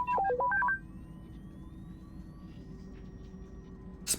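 The droid T3-M4 in Star Wars: Knights of the Old Republic gives a quick run of chirpy stepped beeps, loud and close, then fades to a low hum with a sharp click at the end.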